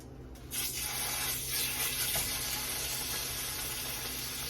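Curry paste frying in a pan, a steady hissing sizzle that starts abruptly after a brief quiet moment and continues evenly at close range.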